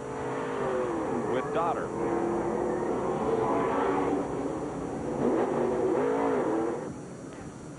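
A NASCAR Busch Series race car at South Boston in 1995, heard from on board, roars loudly with its engine revving up and down in sweeping pitch, while a commentator talks over it.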